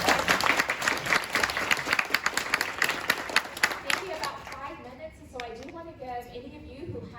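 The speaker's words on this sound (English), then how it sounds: "can we give a round of applause to our panelists?" Dense applause from a panel audience for the panelists, loud and continuous for about four seconds before thinning out as a voice begins speaking over the last few scattered claps.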